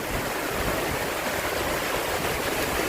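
Heavy rain falls steadily outdoors in the rainy season, a dense, continuous hiss at even loudness with no pauses.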